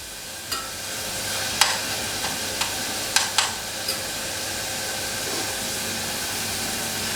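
Lardons and shallots fry in a pan for oeufs en meurette, a steady broadband sizzle with a few sharp clicks of a utensil against the pan in the first seconds.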